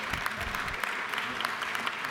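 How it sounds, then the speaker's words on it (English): Applause fills the Georgia House of Representatives chamber, a dense, even clatter of many hands clapping continuously at moderate volume throughout. "give them a warm round of applause this morning and welcome them to the chamber"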